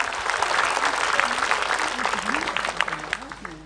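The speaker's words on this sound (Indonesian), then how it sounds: "tepuk tangan buat Ustaz Syam." An audience at an Islamic religious talk show applauds for a preacher, a steady crackle of clapping that carries on under overlapping voices and slowly thins out.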